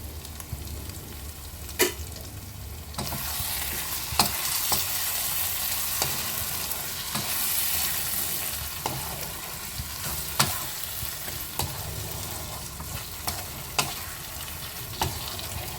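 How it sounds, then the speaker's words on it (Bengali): Beaten curd being stirred into masala frying in a pan for Bengali katla fish kalia: a loud, steady sizzle that surges after a few seconds, broken by repeated sharp scrapes of the spoon, with no talking. "ভালোভাবে নেড়ে চেড়ে নেব"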